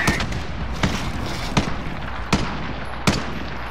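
Gunfire in the video game Call of Duty Modern Warfare, five evenly spaced loud single shots about every three quarters of a second over a steady low background rumble.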